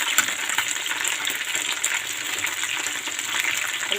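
Mumbar, stuffed sausage casings, frying in hot oil, a steady close sizzle with crackling, popping spatters running unbroken throughout, no voices.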